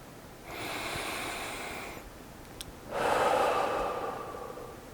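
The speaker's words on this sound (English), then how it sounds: "let's take a nice deep breath" A close, slow deep breath: a long airy inhale lasting over a second, a short pause, then a fuller, louder exhale.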